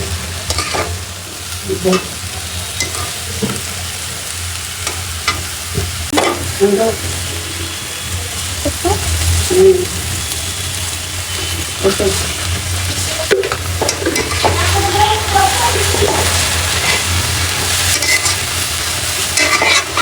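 Garlic tossed into a frying pan and stirred while cooking biryani, with scraping spatula strokes and a steady sizzle throughout, close and fairly loud, with occasional clatter of the utensil.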